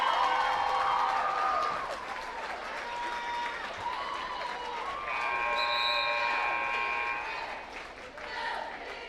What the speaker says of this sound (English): got a nice showing from the North City fans here, cheering on the cheerleaders